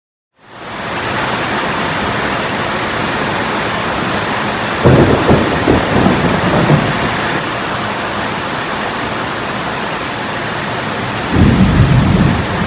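A thunderstorm with heavy rain roars steadily as a dense hiss, with two deep rumbles of thunder rolling in partway through and near the end, heard from under an awning outside a two-story building.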